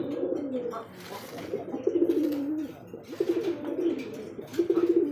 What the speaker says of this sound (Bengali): একটা সিঙ্গেল একটা নরকবুতর ফার্স্ট আমি দেখাচ্ছি ডাকটা দেখেন